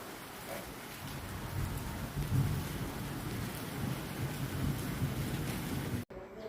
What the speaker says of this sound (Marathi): बाहेर छान पाऊस पडत आहे।